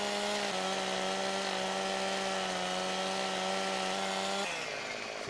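A chainsaw in the Farming Simulator 17 game cuts through a tree, a steady buzzing engine drone with a brief pitch drop before it eases off near the end.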